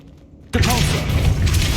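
Depulso spell cast in Hogwarts Legacy: after a quiet moment, a sudden forceful burst of magic hits and keeps going as a loud rumbling, crackling blast with a brief whooshing sweep.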